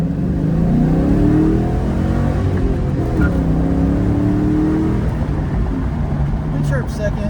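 A modded car accelerates from a roll, its engine note climbing steadily in pitch through the gear with a loud, close in-cabin drone, then easing off near the end; someone talks over it.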